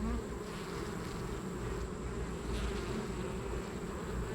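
Honey bees buzz steadily around an open hive during an inspection, a dense, continuous hum from many insects close by, with no voices over it.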